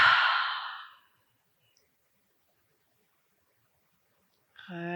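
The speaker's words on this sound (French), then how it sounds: "Prenez une longue inspire par le nez. Expire bouche ouverte." A long open-mouthed exhale during a dynamic vinyasa yoga session, a breathy sigh fading out over about a second, then near silence until a short voiced sound at the end.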